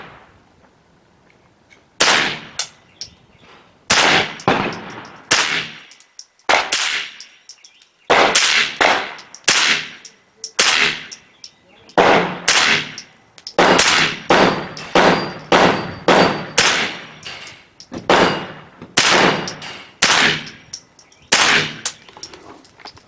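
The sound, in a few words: gunshots from a gun fitted with a Feyachi LF 58 laser light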